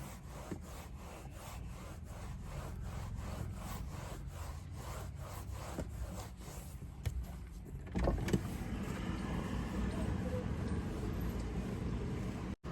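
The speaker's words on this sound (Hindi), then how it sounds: "तो भाई अब इसको भी रब कर लेते हैं अपनी, जो हमने दूसरी पॉलिश करी है।" A cloth rubbing polish over a car dashboard in quick, regular back-and-forth strokes, close and scratchy, then shifting to a steadier, smoother wiping sound.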